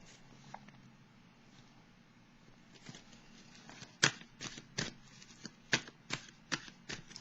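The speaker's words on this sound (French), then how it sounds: "Je vais piger d'autres cartes pour le présent." Tarot cards shuffled and drawn at a table, soft rustling at first, then a run of sharp, evenly spaced card snaps and flicks, close and fairly quiet.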